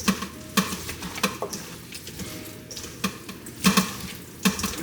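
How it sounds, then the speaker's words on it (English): Raw oxtail is mixed and rubbed by hand, giving soft wet squelching and stirring sounds in short repeated bursts, fairly quiet and close. "So Stir up the oxtail very well."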